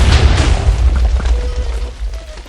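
Repeated TNT explosions in a Minecraft Bedwars match, a dense run of deep booms and bursts rumbling loudly and continuously with no talk over them.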